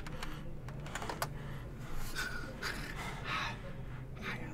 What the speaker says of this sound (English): That's how I'm typing.